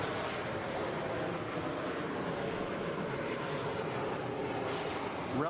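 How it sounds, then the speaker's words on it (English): An early jet aircraft on its takeoff roll, a loud, steady broadband engine roar held throughout, swelling slightly near the end as it passes close by. "Relatively short takeoff roll. Like all early jets."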